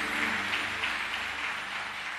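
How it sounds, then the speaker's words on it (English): Church congregation clapping hands during a sermon, a steady dense wash of applause filling the room, fairly loud and even throughout with no distinct voices on top. "Clap your hands"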